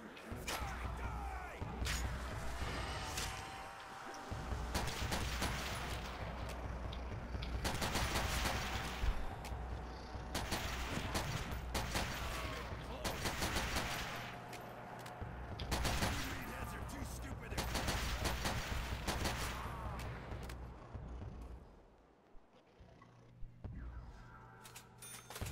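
Guns firing at zombies in World at War Nazi Zombies, with rapid bursts and repeated shots in a busy, continuous barrage, interspersed with brief pauses, as players talk over it.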